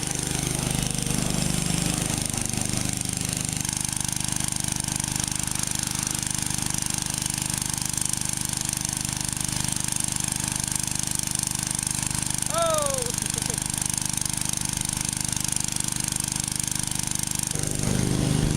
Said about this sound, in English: pressure washing